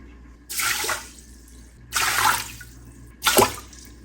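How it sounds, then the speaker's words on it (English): Water is poured into a pressure cooker for parsnip stew in three separate splashing pours, close and fairly loud, with quiet pauses between them. "I'm going to add 2 cups of water to this instead of 4"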